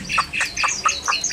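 A caged songbird gives a rapid run of five sharp, bright chirping calls at an even rhythm, close and loud, with light wind noise behind.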